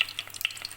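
Ghee heating in a hot pan for ghee rice, with oil already added. Soft crackling sizzle with scattered small pops, steady and close, without any talk.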